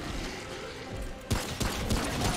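A shotgun goes off in Remnant: From the Ashes during the Gorefist boss fight: a few sharp, loud blasts land about a third of a second apart over a busy, rumbling battle background.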